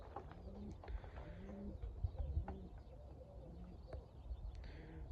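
Pigeons coo softly and repeatedly, several low burbling calls overlapping close by, with faint rustling and scattered chirps in the background.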